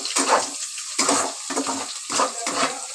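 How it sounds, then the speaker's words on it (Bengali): Ginger, garlic and onion fry in a pan with a cracked egg, giving a loud sizzle that swells with each of several rhythmic stirring strokes, close up. "আমার আদা রসুন আর পেঁয়াজ ভেজে নিচ্ছে তার সঙ্গে আমি একটা ডিমও ফাটিয়ে দিয়েছি"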